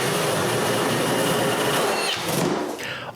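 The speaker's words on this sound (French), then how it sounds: "Ensuite, je perce le carton." Drill bit boring through cardboard in a bathroom vanity build, a steady close whine and rasp that runs for about two and a half seconds and then trails off as the bit breaks through.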